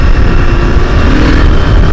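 Husqvarna Norden 901 with its inline twin-cylinder engine roars loud and close, a dense, steady rumbling drone with slight fluctuations and no talking.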